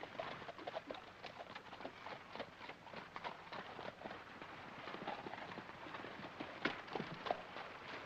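Horse hooves clip-clopping as a horse pulls a carriage, a steady run of soft rhythmic hoofbeats under faint hiss, with no talk.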